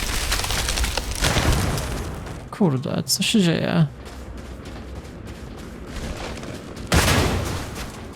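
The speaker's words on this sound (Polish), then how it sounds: "Jakie eksplozje już tam rzucają do nas?" Explosions and gunfire in the sci-fi video game Starfield ring out in loud bursts at the start and near the end, with someone speaking over the middle of the clip.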